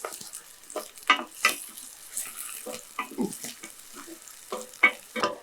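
Ridge gourd cooking in a pan for payasam, stirred with a spoon, giving irregular scraping and clinking strokes over a soft sizzle, close and fairly clear, no talking.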